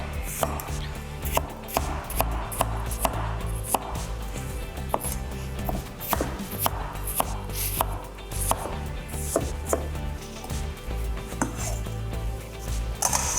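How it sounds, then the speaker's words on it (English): Apples chopped into bite-sized pieces with a knife on a cutting board, a steady run of close, crisp knife strikes with a busy kitchen clatter beneath and no talk. "All right, we got our apples chopped."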